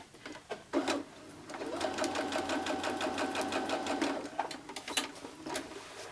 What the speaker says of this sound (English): Cross them and sew right across.